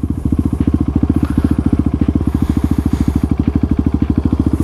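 A motorcycle engine runs steadily at close range with a fast, even pulsing throb and no change in pitch, so it sounds more like holding speed or idling nearby than passing by.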